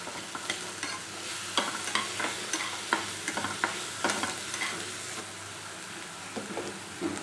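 Onion, green chili and garlic sautéing in a pan, a soft continuous sizzle broken by repeated light scrapes and taps of a spatula stirring, fairly quiet and close, no talking.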